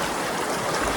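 A forest stream near a waterfall in Alibag rushes steadily, making a dense, unbroken watery roar close by with no voices.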